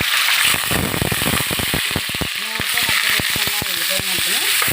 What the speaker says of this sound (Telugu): ఇప్పుడు ఇలా కలుపుకొని నూనెలోని ఉల్లిపాయ ముద్ద వేస్తున్నాను చూడండి.